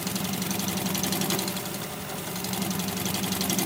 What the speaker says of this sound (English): Then I just turn the lathe up to 700 or 800 RPM